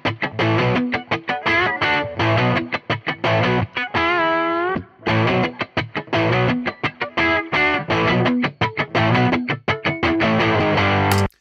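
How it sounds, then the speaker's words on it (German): Distorted electric guitar playing choppy staccato chords with a short reverb tail, loud and dense, with a brief sustained melodic run in the middle and no voices. "aber trotzdem klingt die Gitarre durch diesen kurzen Hall hier wesentlich größer"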